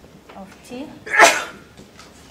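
A single sharp sneeze bursts out near the microphone in a lecture on matrix multiplication, briefly louder than the surrounding talk by the lecturer.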